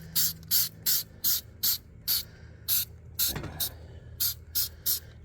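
Degreaser hisses from a trigger sprayer onto a Blackstone griddle in about a dozen short, evenly spaced bursts, close and crisp, with a brief knock partway through.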